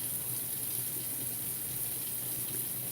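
Water running steadily from a bathtub tap, a constant, even gush and hiss filling a tub with no pauses.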